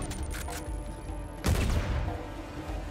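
Uncharted 4: A Thief's End jungle combat, with scattered gunfire and a grenade explosion bursting loudly halfway through, followed by a rumbling tail.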